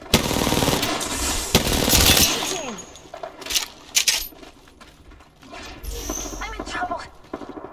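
Gunfire in the video game Apex Legends, with heavy automatic bursts up close at first, then sparser scattered shots, while someone speaks over the fight.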